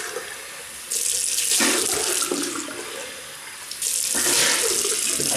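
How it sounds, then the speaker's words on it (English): Running tap water rinses a Wilkinson Sword Classic double-edge safety razor, with two loud, close bursts of gushing flow separated by a quieter stretch. "Right, just rinse off."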